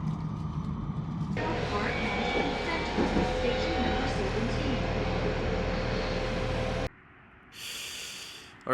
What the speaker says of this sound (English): We're gonna enter the first bullet train.